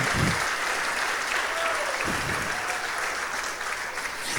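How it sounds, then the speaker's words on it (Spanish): Church congregation applauding during a sermon, dense steady clapping that fills the space, with a couple of brief vocal calls rising out of the noise. "Dale más fuerte ese aplauso."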